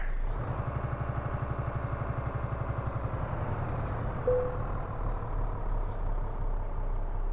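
A heavy diesel truck engine from the Euro Truck Simulator 2 game idles with a steady low rumble and pulsing rhythm, loud and continuous throughout, with a brief hiss partway through.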